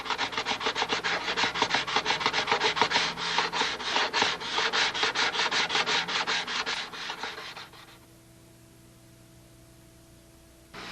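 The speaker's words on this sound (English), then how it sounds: "you can just now sand all the chalk off" Steady, close rasping sandpaper strokes rub chalk off a balsa-framed model aircraft wing being built on a jig, one bay at a time, continuing rhythmically for about seven seconds before stopping into quiet room hum.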